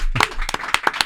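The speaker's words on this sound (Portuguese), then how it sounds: "palmas pra esse cara" A few sharp, separate claps ring out close by in a podcast studio as a philosophy guest is applauded, a short, irregular burst of hand claps.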